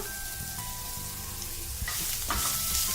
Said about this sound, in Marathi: हे सगळं आपण पनीरच्या त्या तेलातच परतवतोय।